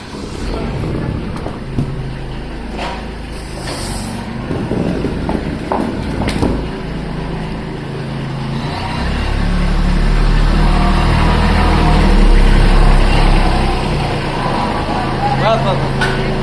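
A farm tractor's engine idles and then swells to a louder, steady drone as it is driven into a shelter during rain, with people talking nearby throughout.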